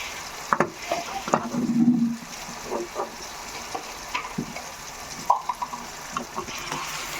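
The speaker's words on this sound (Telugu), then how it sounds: "ఇప్పుడు ఈ ఉల్లిపాయలు ఈ మాంసం కలిసేలాగా మొత్తం అంతా బాగా కలిపేసుకోవాలి" Onions and beef are stirred together in a hot pan, with a low sizzle under repeated spoon scrapes and knocks and a short louder burst of frying early on.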